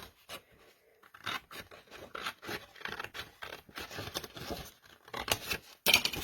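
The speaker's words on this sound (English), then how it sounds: "Now I'm going to cut this end off. I'll just use a little scissor here." Small scissors snip through the paper end of a handmade Halloween pocket book, a run of close, crisp cutting strokes in quick irregular rhythm, with a louder rustle near the end and no talk.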